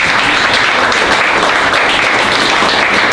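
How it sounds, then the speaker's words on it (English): A theater audience applauds Glenn at a film festival event, loud dense clapping that runs continuously without a break. "Can we give it up for Glenn? Round of applause."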